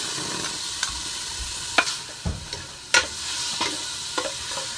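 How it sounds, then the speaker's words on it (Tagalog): Garlic and onion sautéing in oil in a pan for sopas, with a soft steady sizzle broken by several sharp clinks and scrapes of a utensil stirring against the pan, close by and with no talking. "Lagay na natin ang bawang at sibuyas."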